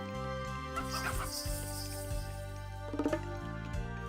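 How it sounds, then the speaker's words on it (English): Chickens cluck in the Age of Mythology strategy game, short fowl calls bunched near the middle and again toward the end, over steady game music with no talk. "We got some mystical chickens here."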